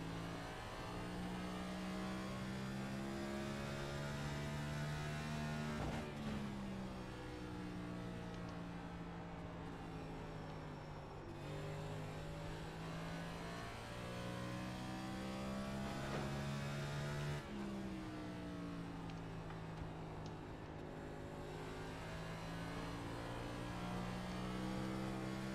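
Race car engine in a racing video game at the Richmond track, a steady loud drone with rising and falling revs as the car shifts through gears, running continuously with no talk over it.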